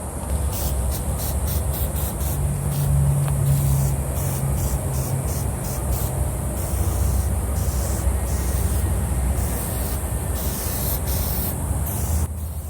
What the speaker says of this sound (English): let's go ahead and spray our Meguiars.